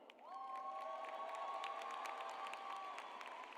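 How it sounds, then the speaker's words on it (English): A graduation crowd at the 2025 Miller Grove High School ceremony cheers and claps in a steady, sustained wash of noise, with a long held tone running through the cheering for about three seconds. "you clap it up for them."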